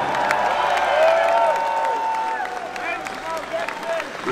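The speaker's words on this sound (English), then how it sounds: "Big round of applause, courtesy of Scotland." Concert crowd at ABC Glasgow applauding and cheering during a show, a dense, sustained roar of clapping with high whistles and yells rising through it, steady and loud throughout.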